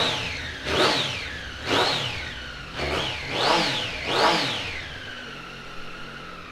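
A 2018 Triumph Street Triple 765 RS three-cylinder engine revs up in five rising, sweeping bursts, each climbing and falling in pitch, then settles into a steady idle, close and loud.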